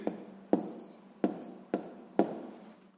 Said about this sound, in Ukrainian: Ну що ж, е, записуємо відповідь.